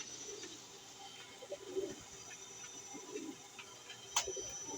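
Pet pigeons in a backyard loft coo softly and intermittently against steady low ambient noise, with a brief sharper call near the end.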